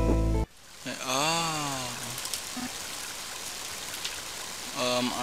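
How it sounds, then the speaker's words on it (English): Heavy rain in the video game Mother 3 hisses steadily as a broad wash, with short melodic game tones over it at the start, middle and end. "Mighty heavy rain, isn't it?"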